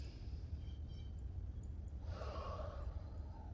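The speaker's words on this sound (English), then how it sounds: "And inhale." One deep breath drawn in during a gentle standing side stretch, soft and close, a long airy inhale rising and fading in a quiet room.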